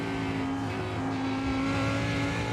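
A race car engine in the iRacing simulator at Daytona International Speedway, held at full throttle as a loud, steady high-pitched drone with a sustained whine and no pauses, alone without talk.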